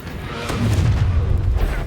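A Confringo fire spell bursts in Hogwarts Legacy, a sharp blast followed by a deep, rumbling low boom that rolls on for over a second at fairly high level.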